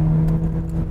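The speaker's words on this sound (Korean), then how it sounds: "이 스포티한 느낌의 배기 사운드가 아주 멋져요" Mercedes-Benz A45 AMG, a four-wheel-drive sports hatchback, taking a corner with a steady, loud low exhaust drone running close and continuous, with no talk over it.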